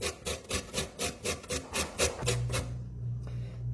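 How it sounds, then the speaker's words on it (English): A lime's skin is rasped against a zester in about ten quick, rhythmic scraping strokes, then stops, leaving a quiet low hum. "is scrape off the skin of the lime to add it to the crema that we're going to make later"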